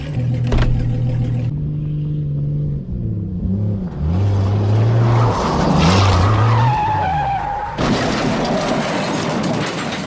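A Chevy Silverado ZR2 pickup truck is driven hard over a jump: a loud, close engine roars and revs with changing pitch, and tires skid and scrape throughout, ending in a burst of rough broadband noise.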